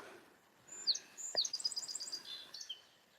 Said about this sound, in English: Is that a song sparrow? Kind of sounds like a song sparrow over there.